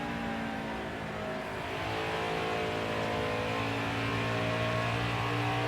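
Race car engine droning under partial throttle in NASCAR Heat 4, Xfinity series at Iowa, a steady loud in-car hum holding nearly constant pitch with slight swells, no talk.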